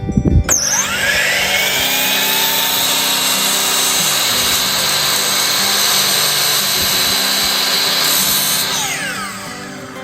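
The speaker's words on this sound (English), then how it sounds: "You could use a jigsaw, but it leaves a pretty rough edge. So I just use my chop saw." A chop saw slices through wood along marked lines, its motor whining up and holding a loud, steady cutting roar for several seconds before spinning down at the end.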